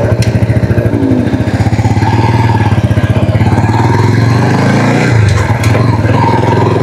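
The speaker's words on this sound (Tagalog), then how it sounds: "test drive natin si Rusi Flash 150X" Rusi Flash 150X four-valve liquid-cooled motorcycle on a test ride, its engine loud and close with a steady throbbing putter that shifts pitch as it accelerates, with wind buffeting over it.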